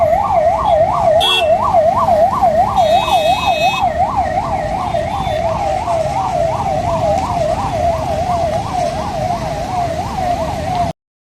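A municipal ambulance siren wails in a rapid, rhythmic yelp close by as the vehicle pushes through a traffic jam on Ghodbunder Road, loud and continuous, with a brief horn blast and faint road noise beneath.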